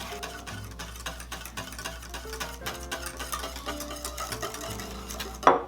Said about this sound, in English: we'll just add in the egg mixture as we whisked it.